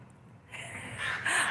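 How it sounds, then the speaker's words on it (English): A magpie calls in a library parking lot, with harsh chattering caws that grow louder toward the end over a quiet outdoor background. "I mean, like, look, there's Magpie up there."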